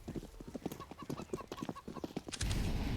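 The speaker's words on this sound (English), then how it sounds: "Katie's going to hear all these footsteps, though." Footsteps during a CS:GO match on the Inferno map at a professional esports event, a rapid run of sharp clopping steps heard close and clear, ending in a denser burst of noise.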